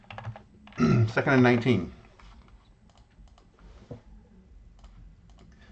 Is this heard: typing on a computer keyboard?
yes